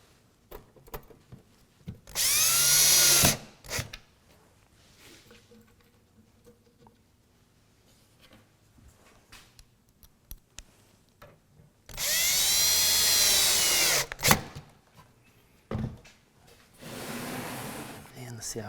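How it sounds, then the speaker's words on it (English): A drill drives screws into the back of a benchtop tool chest in two loud, close whirring bursts of a second or two each, separated by quiet stretches of small handling and tapping noises. "I'll put just a couple of screws in the back."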